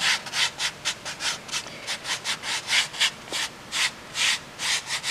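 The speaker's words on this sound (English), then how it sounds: "I hope this noise is not too irritating on the canvas." Steady rhythmic scrubbing strokes of a paintbrush on canvas, a brisk back-and-forth rubbing on a rough surface, close and fairly loud, with no talking.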